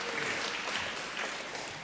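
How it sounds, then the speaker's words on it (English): An audience at a debate breaks into applause, a brief dense patter of clapping that stays fairly faint and even from start to finish. "you've already earned your applause"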